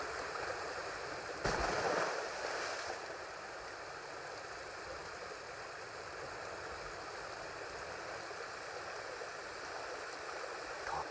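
A waterfall and stream in the Ghost of Tsushima game world give off a steady, soft rushing hiss. Near the start it swells briefly with a louder splash-like burst, then settles back into a constant flowing wash.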